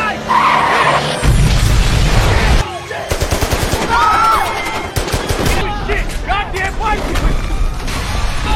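Tires screech loudly as a cash transport car brakes suddenly in a sharp skid, followed by bursts of rapid gunfire and shouting voices over a tense music bed.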